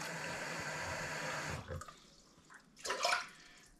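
Water runs into a pressure cooker in a kitchen as soup is prepared, a steady splashing pour for about a second and a half, then brief trickles and a louder final splash.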